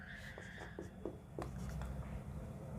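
Chalk or marker strokes scratch across a board during a trigonometry lesson, in a series of short quick taps and scrapes with faint background murmur.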